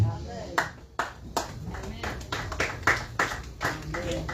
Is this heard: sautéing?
no